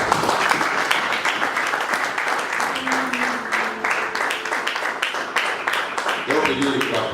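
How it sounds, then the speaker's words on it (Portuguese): A church congregation claps in sustained, dense applause that runs the full length without a break, with voices calling out over the clapping. "Então podemos aplaudir a palavra do Senhor."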